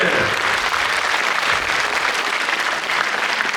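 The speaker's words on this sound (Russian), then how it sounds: "Аплодисменты!" A concert hall audience applauds steadily and densely at a singer's anniversary solo concert, with loud, even clapping throughout and no talking.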